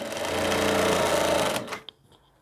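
A sewing machine runs continuously, stitching the side seam of a double-faced coat with a rapid, even mechanical whir before stopping abruptly, followed by a small click.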